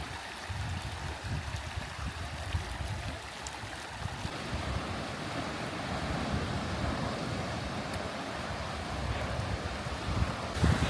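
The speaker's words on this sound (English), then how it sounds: "you see the waves coming this way, pushing into the freshwater stream" Ocean waves surging into a freshwater stream on the Big Sur coast, a steady broad wash of surf and flowing water with gusts of wind buffeting the microphone.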